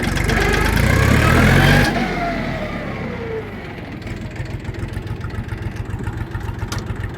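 Kentavr 244SX Chinese mini tractor engine running steadily close by, with a loud revving surge at first, then a lower rhythmic chugging as the tractor pulls away in reverse, no voices heard.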